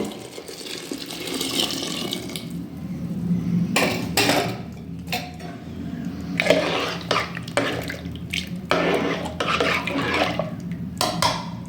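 Chopped bottle gourd poured into boiling milk in a pot: a wet splashing pour with liquid trickling and bubbling, and a few sharp clinks of utensils against the pot, close and fairly loud with no voices.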